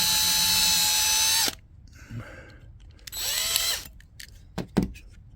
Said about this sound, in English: So let me get my drill and we'll pop this baby apart.